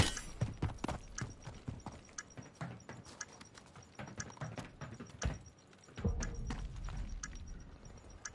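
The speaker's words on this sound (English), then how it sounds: "Your footsteps are so fucking loud, Trent." Rapid, heavy footsteps from Call of Duty Search and Destroy gameplay thud in a steady running rhythm, loud and close, with no talking over them.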